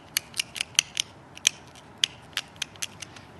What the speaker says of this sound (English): I'm just chipping off little small flakes